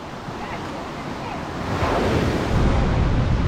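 Strong sea waves churning around a small fishing boat at sea, a steady broadband rush of surf and wind that swells louder toward the end, close and continuous with no talk.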